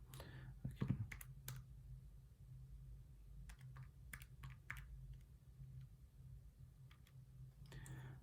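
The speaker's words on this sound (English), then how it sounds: "Let's type this in." Numbers are typed into a computer in a quiet room, with a few sparse, faint key clicks spread across a low steady background hum.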